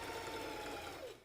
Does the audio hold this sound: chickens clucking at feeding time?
no